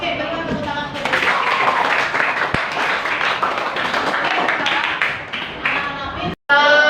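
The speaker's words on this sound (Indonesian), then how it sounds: "berikan tepuk tangan untuk anak-anak" Clapping for children at a school classroom session, a few seconds of scattered, lively applause from a small group mixed with voices, cutting off abruptly near the end.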